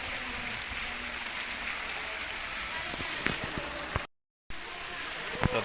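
Rain falls steadily at Agra Fort, a soft continuous patter with scattered sharper drips landing close by. The sound cuts out briefly near the end and then resumes.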